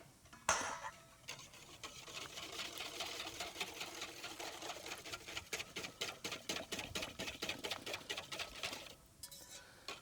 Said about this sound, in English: whisk it into the eggs and the buttermilk